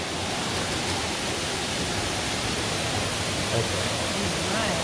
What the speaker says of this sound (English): you can also see the huge waterfall that's in here